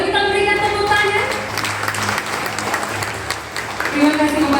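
Guests at a grand opening dinner for a JAECOO car dealership applaud steadily at moderate volume, with voices and background tones audible at the start and again near the end.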